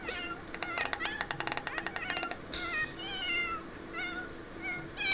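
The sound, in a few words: kitten meowing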